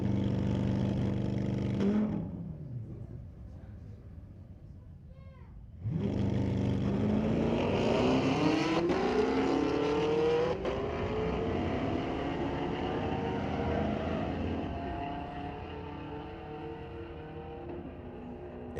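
A Chevrolet Corvette and a Camaro drag racing at a street-legal drag night at Mission Raceway Park: a loud engine roar cuts off, then a second burst of revving rises in pitch as the cars launch and pull away, fading slowly.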